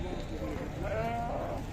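Lambs bleating at a livestock market, a couple of wavering bleats rising over constant crowd murmur and voices nearby.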